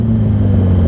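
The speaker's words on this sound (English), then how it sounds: "Ooh, this car sounds nice." Engine drone from a car nearby, heard from a Yamaha R6 600cc motorcycle on the road: a loud, steady low rumble with strong bass tones holding level through the second, with no talk.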